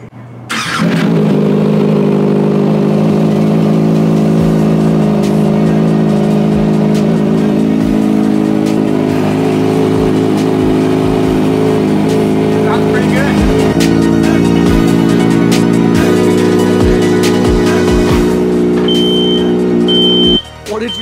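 A 2023 Kawasaki ZX6R stunt motorcycle engine runs close by, idling and revving in sustained bursts with shifting pitch for about twenty seconds, loud and dominant throughout.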